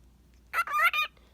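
A pet cockatiel sings to itself indoors, giving one short, clear burst of warbling, chirpy notes in a quiet room, with no talking over it.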